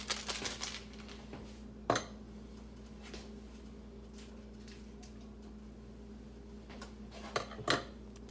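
Spoon scraping and clinking against a pot while paprika is stirred into vegan chili, a few sharp metallic knocks spread across a quiet stretch, close and without talk.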